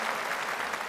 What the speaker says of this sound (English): Danny Kruger, ladies and gentlemen, give him a round of applause.